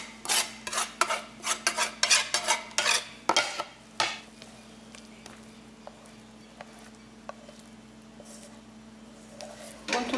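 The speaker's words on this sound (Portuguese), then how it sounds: "aí a gente vai dar uma mexida aqui, só para a cebola quente não cair direto no ovo" A spoon stirs a Knödel mixture of onion, egg and parsley in a bowl, a run of quick scraping strokes that slows and thins out after a few seconds, leaving near-quiet with faint scrapes.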